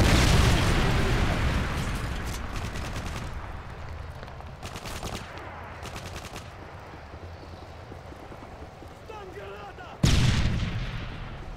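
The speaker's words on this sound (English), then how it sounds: "Predator missile inbound" Predator missile strike explosions in Modern Warfare 3 multiplayer, a loud booming blast at the start fading into rumbling gunfire, then another sharp explosion near the end, with a faint voice.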